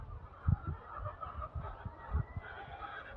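Chickens on an egg farm at feeding time: faint, low clucks and short honking calls pop up irregularly over a muffled barn hum, a quiet indoor scene with no talking.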